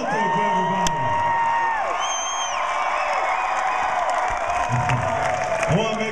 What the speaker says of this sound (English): It's a good, nice round of applause.